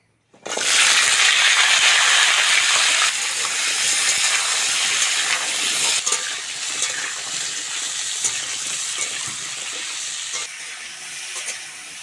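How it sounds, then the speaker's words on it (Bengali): Mixed vegetables hitting a little hot oil in a wok (kadai), a sudden loud hiss that settles into a steady, dense sizzle lasting throughout, close and alone without speech. "কড়ার মধ্যে অল্প করে তেল দিয়ে দিয়েছি আর ক্যাপসিকাম ছাড়া বাকি সবজিগুলো ভেজে নেবো হালকা করে"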